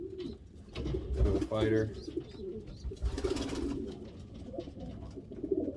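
Pigeons cooing in a breeding loft, soft throaty coos repeating close by beneath ongoing loft rustle, with someone speaking briefly over them.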